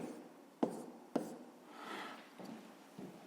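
A pen writes in a school maths notebook, with two sharp taps followed by quiet scratching strokes and a couple of fainter taps, all close and soft.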